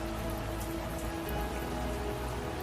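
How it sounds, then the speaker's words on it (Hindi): Steady, dense rain pattering on a surface, a constant even hiss with no voices. "आहा, ये क्या मुसीबत है, अब बारिश भी।"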